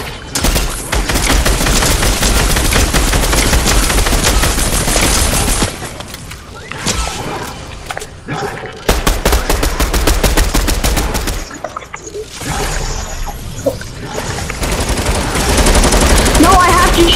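Rapid gunfire in the Fortnite video game, dense bursts of shots for most of the stretch with a brief lull midway, loud and close, with some speech mixed in.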